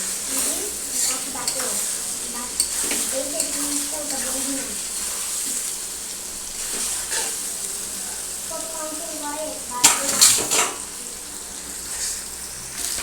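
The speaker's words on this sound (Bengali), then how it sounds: "এবার আমি আলুটার সঙ্গে মশলাটা ভালো করে আবারও কষিয়ে নেব" Small-cut potatoes and spices are sautéed in a pan with a continuous close sizzle and repeated stirring scrapes of a spoon, rising briefly to a louder clatter near the end, with occasional faint voice sounds.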